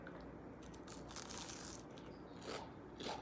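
A bite into a crunchy fried Oreo coated in pancake-mix batter, giving faint, close crackly crunches with a louder crisp burst near the end, no talking.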